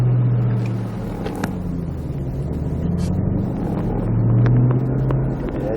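A Ford Mustang Shelby GT500 engine pulls away slowly in first gear with a deep, steady low rumble that swells slightly near the end, heard from inside the car with some faint interior knocks.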